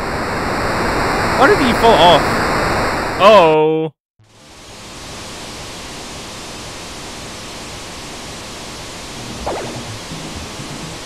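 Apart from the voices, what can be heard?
rushing water in a video game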